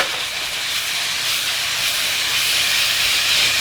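Shrimp and scallop stir fry sizzles in a hot pan, a loud continuous hiss that holds steady and swells slightly, with no talking.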